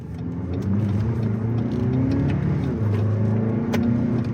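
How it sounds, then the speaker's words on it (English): A 2023 Lexus NX 350 F Sport accelerating in eco mode, a steady, moderately loud engine drone with rising tones heard from inside the car, without talking. "the only difference that I've seen so far is in the acceleration when you put it into eco mode"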